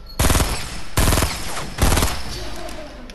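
Three sharp bursts of rapid automatic gunfire in a multiplayer shooter game, each loud, close and rattling for a fraction of a second before trailing off into echoing background noise.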